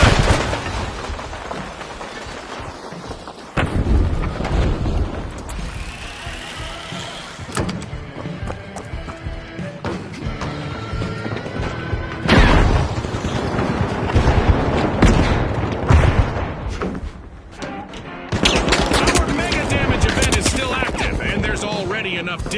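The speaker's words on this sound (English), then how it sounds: "Rocket away!" Rocket launch and a string of explosions and gunfire rip through a debris-strewn arena in The Finals, with loud broadband blasts recurring throughout over dense, continuous combat noise.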